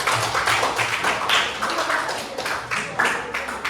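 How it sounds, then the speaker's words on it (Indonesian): Classroom applause for a student named Aul: a steady patter of many hands clapping nearby, loud and continuous with slight swells, no voices over it. "tepuk tangan untuk Aul"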